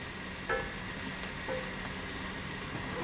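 Bacon frying in a heating pan for coq au vin, a steady, fairly quiet sizzle and hiss throughout with a couple of faint clinks, no talking.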